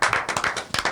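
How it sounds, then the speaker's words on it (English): Brisk hand clapping, several quick claps in a fast, slightly uneven burst, close and fairly loud, with no voices over it. "I'm clapping for the true heroes."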